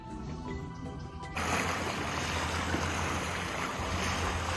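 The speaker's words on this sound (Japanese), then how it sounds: "ボートも走ってます。" Boats running on a lake beside the Kuzuryu Shrine, including a pirate-ship sightseeing cruiser, give a steady low engine drone with wind and water noise that swells after the first second and holds fairly loud with no talk.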